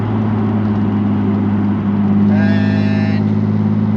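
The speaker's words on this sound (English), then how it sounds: "There's a Mark V, which is Paul's Mark V." A Toyota Supra Mark V at a GT Tuners club end-of-show meet gives a steady, loud low engine drone. A brief higher whine rises over it partway through.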